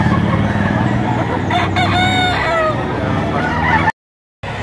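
An American breed rooster, about one year old, crows loudly and close by at a poultry auction market in Lipa, Philippines, a drawn-out call over a steady background hum, followed by a brief drop to silence.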